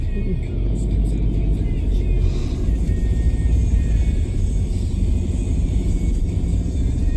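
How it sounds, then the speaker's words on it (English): Busy seaside town road traffic rumbles steadily past, a continuous close engine drone with cars passing, while someone talks over it. "Plenty of traffic."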